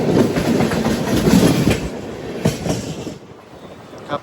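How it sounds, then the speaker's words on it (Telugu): A Kakatiya Express train rolls along the tracks with a loud, rumbling clatter of wheels that gradually fades as it slows toward the end. "అరే ఈ ట్రైన్ వెనకాల ఇంకో ట్రైన్ ఉన్నట్టుందండి"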